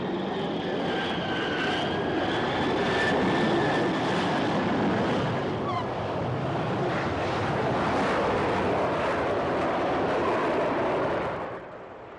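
Airliner engines hum and whine steadily as the plane taxis to a stop, a continuous broad roar with faint tonal whines that eases and drops away at the very end.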